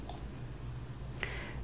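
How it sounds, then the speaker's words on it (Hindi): A computer mouse clicks twice, about a second apart, on a change-password button. The clicks are sharp and close-up over a steady low hum, with no voices. "तो ये क्लिक करेंगे।"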